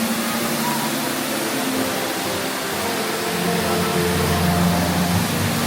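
A steady, dense roar of an underground waterfall inside a mountain cave fills the space, constant and enveloping with a low rumble underneath and no distinct breaks.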